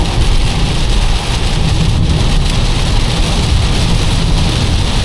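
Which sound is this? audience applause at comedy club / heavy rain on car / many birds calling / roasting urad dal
heavy rain on car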